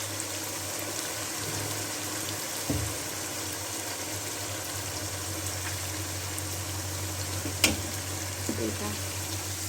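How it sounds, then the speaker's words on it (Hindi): Bone broth for beef nihari meeting fried beef in a hot pan, a continuous even sizzle and bubbling hiss at moderate level with a couple of brief clinks, no talk. "अब इसमें मैं यखनी डाल दूंगी।"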